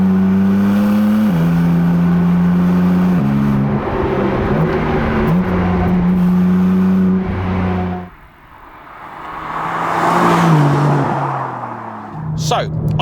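A BMW M4 CSL driving with transmission and chassis in sport mode, its engine holding a steady loud drone that shifts pitch through gear changes, briefly dropping off around the middle before building again with a revving rise near the end.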